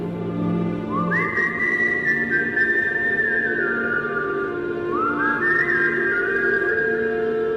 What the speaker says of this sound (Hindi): सीटी एक बार फिर गूंजी